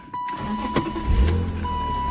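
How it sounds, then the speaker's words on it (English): A BMW E36 M3 cranks briefly and fires up, settling into a low, close engine rumble with a steady tone running through it. "Let's go ahead and give it a crank up or start up."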